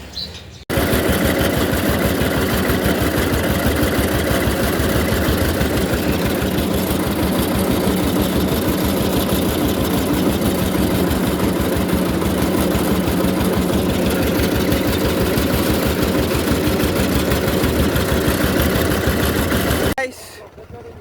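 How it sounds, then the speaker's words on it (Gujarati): A tractor engine idles loudly and steadily at close range, a constant low rumbling chug that cuts off abruptly near the end. "ટ્રેક્ટર બેક્ટર ચાલુ કરી અને પછી જઈએ સીધા વાડીએ"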